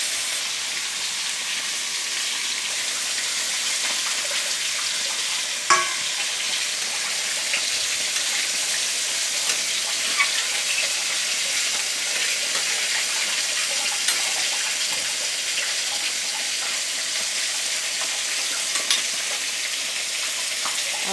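Potatoes and masala sizzle steadily in a pan while a fish curry is being prepared, a constant close frying hiss with occasional faint clinks.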